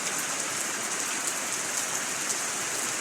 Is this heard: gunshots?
no